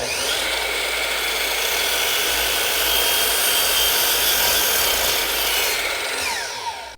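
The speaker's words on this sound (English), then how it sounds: "Let's go ahead and make a cut. There's our first cut." A power saw cuts a miter in crown molding. The close, loud, continuous whine and buzz of the blade runs through the wood for several seconds before winding down at the end.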